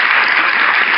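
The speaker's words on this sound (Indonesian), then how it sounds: "tepuk tangan dong Bang Acil semuanya." Applause from a podcast studio audience greeting a guest, dense and steady hand clapping filling the whole moment at close range with no talk over it.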